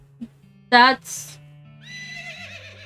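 A horse in the video game West of Loathing lets out a sharp, bright whinny, brief and loud, set against a low steady game music drone, followed by softer tonal game sounds.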